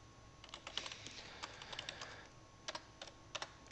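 Computer keyboard typing during a trading webinar, with irregular bursts of keystrokes, a dense run early and then scattered clicks, close and fairly quiet against a faint steady hum.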